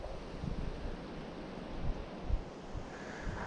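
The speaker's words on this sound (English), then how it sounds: "because it's so windy" Wind at a northern lake buffets the microphone in low, uneven rumbling gusts over a soft background wash, fairly quiet, with no voices.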